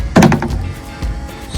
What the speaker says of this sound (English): You will first open up the door.